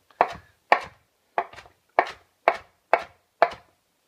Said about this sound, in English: And we can really just rough chop these.